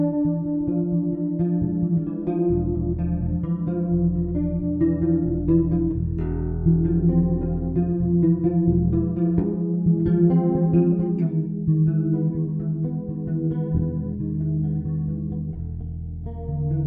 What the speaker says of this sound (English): listen to how the music sort of lifts as soon as my chorus pedal is implemented